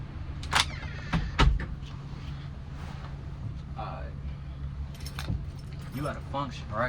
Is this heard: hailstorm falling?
no